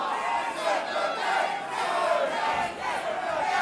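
Crowd at a white collar boxing match in London shouting and roaring steadily, a dense, loud wall of voices with no pause throughout.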